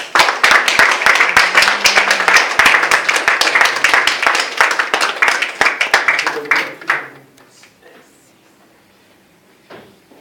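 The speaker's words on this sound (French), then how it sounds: "Acclamons le Seigneur." A church congregation at a consecration service claps and cheers in a dense, loud burst of applause with voices mixed in, which stops abruptly after about seven seconds and leaves a quiet room.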